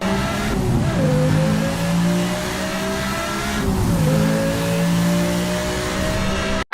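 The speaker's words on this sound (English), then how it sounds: "this car also sounds great when you hit the accelerator" A V10 race car in Need for Speed Hot Pursuit Remastered revs hard in two climbing pulls. The loud, close engine tone rises steadily each time, with no talk over it.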